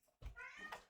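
A house cat lets out a single short meow, close and quite faint, rising and then trailing off in under a second.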